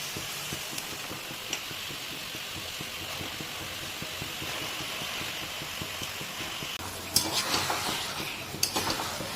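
Marinated chicken goes into a hot pan for chicken rezala and is stirred, a steady low sizzle with a few spoon and pan clatters near the end.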